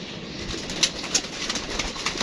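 Pigeons kept by a breeder coo softly with a couple of short calls standing out over a steady hiss of outdoor background noise, close and fairly faint.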